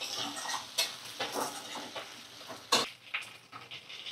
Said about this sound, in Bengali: একটু এটা পেঁয়াজ আলু এখন ভাজা করছি